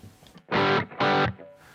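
Electric guitar through a Boss OS-2 overdrive/distortion pedal set toward the distortion side, two sustained loud, saturated chords, each held about a quarter second with a short gap between, with no talking.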